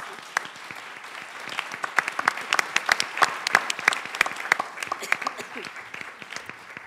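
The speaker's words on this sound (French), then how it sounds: "je crois que ça mérite une bonne main d'applaudissement" A room of listeners at a Quebec election debate on international trade issues bursts into lively applause, sharp individual claps crowding together and holding steady for several seconds with no talking over them.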